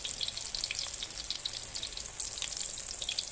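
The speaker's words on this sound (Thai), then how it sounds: "ทอดแบบนี้จนหมดเลยนะจ๊ะหน้าที่ผสมไว้เนาะ ทอดจนหมดเลยได้จ้ะ" Small shrimp batter fritters frying in hot oil, a steady crackling sizzle with dense popping bubbles that holds evenly throughout, close and fairly loud with no talking.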